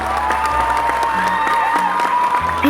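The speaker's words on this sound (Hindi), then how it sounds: "जब तालियों की गूंज की आवाज आई" Crowd applause in a cartoon, steady clapping with some cheering, layered over sustained musical tones and a rising note at the end.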